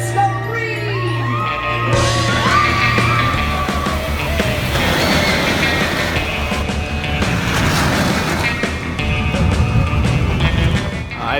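Riders on the California Screamin' roller coaster at Disney California Adventure launch into a loud, sustained roar of track rumble, wind and distant screams, dense and continuous throughout.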